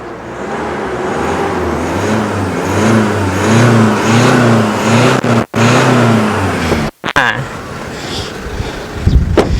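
A 2018 Isuzu D-Max 1.9 four-door pickup in original condition idles close by with a steady, throbbing diesel hum and a gentle rhythmic pulse, while someone talks over it; a couple of abrupt cut-outs interrupt near the end.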